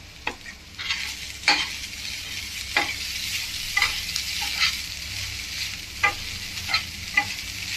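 Crumbled kadubu frying in a pan with chili, stirred in repeated scraping strokes over a steady sizzle, close and moderately loud.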